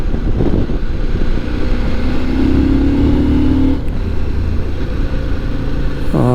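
A CF Moto 800 MT motorcycle engine pulls hard under acceleration, its rising drone climbing steadily and loud and close, then easing off before a brief revving tone near the end.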